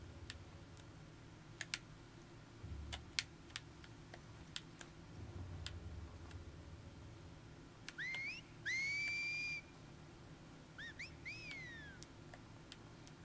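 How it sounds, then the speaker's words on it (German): Whistled signals between enemies in The Last of Us Part II, heard as a few faint, rising and sliding whistles over quiet ambience and scattered clicks. "Das ist voll fies. Die geben sich Pfeifgeräusche."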